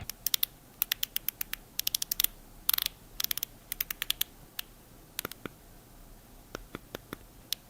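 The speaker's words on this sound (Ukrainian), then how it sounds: "Коліщатко теж металеве і воно клацає неймовірно приємно." Crisp metallic clicks from the metal scroll wheel of a NuPhy Field75 HE keyboard, coming in quick bursts and scattered single ticks, close up over a quiet background.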